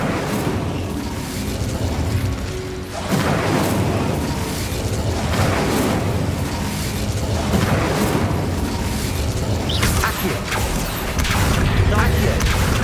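Fire spells cast in Hogwarts Legacy combat: loud whooshing bursts and booming magical impacts roll continuously over a dense game soundtrack, with several sharp flares through the fight.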